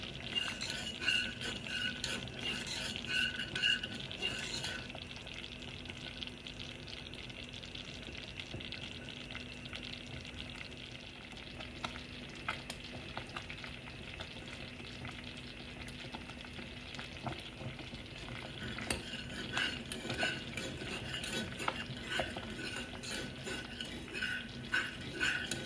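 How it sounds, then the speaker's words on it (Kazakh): Thick kurt, boiled-down fermented milk, bubbles and spatters in a pot, a continuous quiet bed of popping and crackling with scattered sharper spits, heard alone and fairly close. "Мінекей дәл осылай шашырап атқылап жатса, құрт пісіп дайын болды деген сөз."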